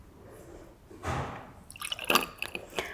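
Campari poured into a glass while mixing a Negroni Sbagliato: a brief close splash followed by a few light drips and clinks against the glass, with no talking.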